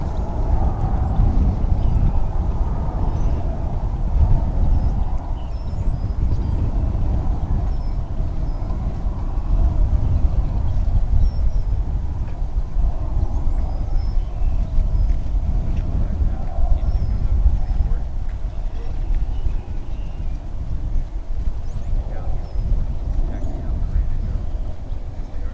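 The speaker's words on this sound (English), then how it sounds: "Finally, our San Angelo flight rolls down the runway." An airliner on the San Angelo flight rolls along the runway at DFW Airport, a steady low rumble of engines and tyres holding at the same level throughout with no clear breaks.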